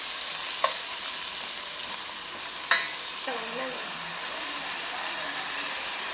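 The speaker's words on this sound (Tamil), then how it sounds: "நல்லா கொத்தமல்லி, புதினா போட்டு நல்லா பரட்டி விட்டுக்கலாம்." Mutton fries for biryani with coriander and mint in a pan, giving a continuous hissing sizzle with a couple of sharp spoon knocks against the vessel and a faint voice underneath.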